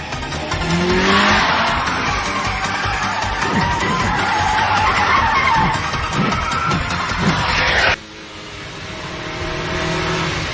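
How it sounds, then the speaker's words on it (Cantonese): A Toyota AE86 and a Mitsubishi Lancer Evolution IV race hard, their engines roaring loudly without a break as tires squeal and skid through corners; the din drops off abruptly near the end and then carries on more quietly. "佢架車好快啊！"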